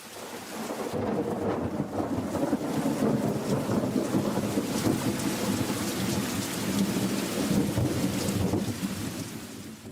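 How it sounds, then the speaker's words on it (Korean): A thunderstorm with heavy rain pouring down steadily, dense hiss of a downpour with rolling thunder rumbling underneath throughout, loud and close, no voices. "그렇게 말하는데 갑자기 천둥번개가 치더니 소낙비가 쏟아져 내렸습니다."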